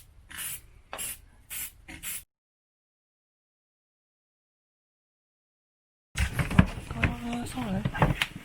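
Spray paint hisses from a can in four short, close bursts, followed by silence, then a person talks over light handling noise.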